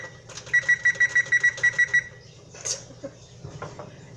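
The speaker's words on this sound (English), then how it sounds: "Oh, I need to set a timer." A kitchen timer being set while pasta sides are cooked: a quick run of about ten evenly spaced electronic beeps, fairly close and clear, followed by soft kitchen clatter.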